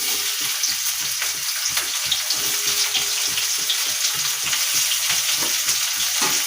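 Chopped onions fry in oil in a pan, a steady close sizzle with crackling bursts and occasional stirring scrapes, continuous and loud with no one talking.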